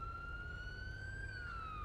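Police car siren in a GTA roleplay game, a faint wailing tone sweeping up and then down over a low vehicle rumble, with no talk.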